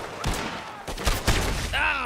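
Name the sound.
gunfire in the video game Red Dead Redemption 2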